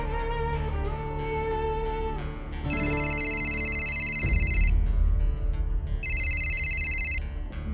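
Telephone ringing in two separate electronic bursts, each a steady tone lasting about two seconds, sounding over a tense dramatic music score.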